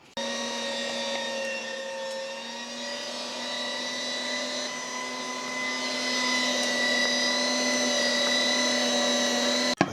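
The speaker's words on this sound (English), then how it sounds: "We're going to be grounding this using the medium-sized die." Electric meat grinder working through lamb and brisket with a medium die for Adana kebab: a steady, loud motor whine with a constant tonal hum that runs unbroken throughout, rising slightly in the second half.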